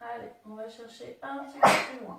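A person sneezes once, loud and close, during a gentle adapted exercise class, after an instructor speaks in French.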